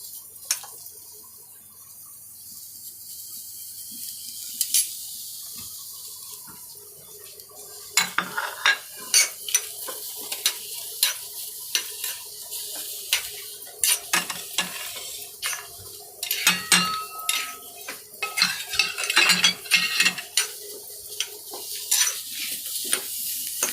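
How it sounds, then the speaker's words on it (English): Onions are stir-fried in a pan for fish curry. A quiet sizzle at first gives way to frequent clattering spatula scrapes and stirs against the pan. "Now we need to even slightly stir fry, or slight it should turn light brown in color, the onion."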